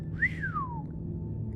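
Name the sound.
a man whistling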